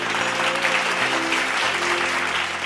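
Steady, dense clapping from a church congregation fills the space for a few seconds, loud and continuous, with music playing underneath.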